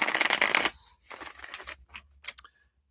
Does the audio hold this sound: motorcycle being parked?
no